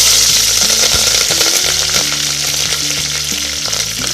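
Green chillies frying with mustard seeds, fenugreek, cumin and dried red chillies in hot oil for a curd curry make a loud, dense, crackling sizzle right up close, with spoon scrapes mixed in.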